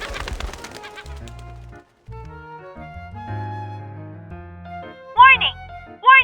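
Seagulls squawk in the video game Love and Deepspace, with loud, sharp cries bursting out near the end over soft, steady game music.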